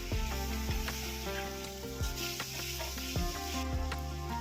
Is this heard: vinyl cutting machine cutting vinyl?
no